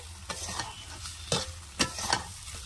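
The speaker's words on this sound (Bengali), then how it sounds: "ভাজা পটলগুলো দিয়ে একটু নাড়াচাড়া দিয়ে নেবে।" Fried pointed gourd is stirred into a spiced masala in a pan. A few distinct scraping strokes of a spatula ring out over a quiet, steady sizzle, close and unaccompanied by speech.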